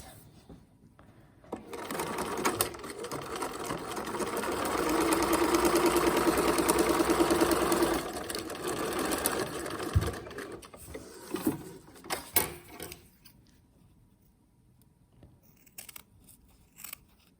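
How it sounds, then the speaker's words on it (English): A sewing machine double-stitches fabric for menstrual panties, running in a steady close whir for several seconds before stopping, followed by a few scattered clicks and snips. "I'm going to double sew it"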